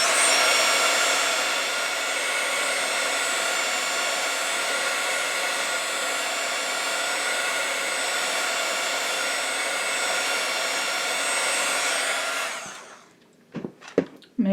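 A heat dryer blows steadily and loudly on embossed papercraft for about twelve seconds, then switches off, followed by a few close clicks and taps.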